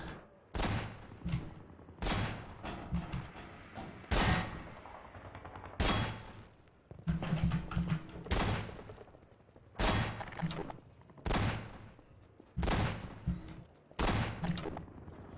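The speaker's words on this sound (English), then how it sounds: "shooting at someone with a shotgun" Shotgun gunfire in a video game: loud, booming blasts repeated roughly every second or two, each with a short ringing tail, across a long sequence of shots.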